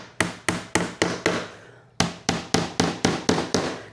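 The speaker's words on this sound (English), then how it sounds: "Let's get my hammer and we'll tap it in a little bit." A hammer taps a wooden workbench leaf part into a tight fit in a steady series of sharp knocks, about ten strikes with a short pause midway, close and fairly loud.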